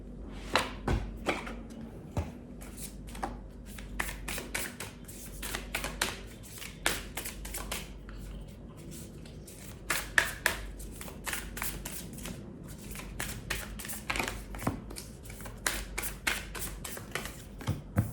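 Oracle cards being shuffled by hand in a quiet room, a steady series of crisp riffling bursts and soft taps repeating throughout, with no talking.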